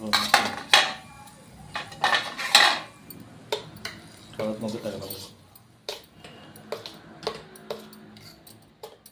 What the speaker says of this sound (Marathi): त्याला चमच्याने तडका आणि चटणीला एकत्र मिक्स करून घेऊया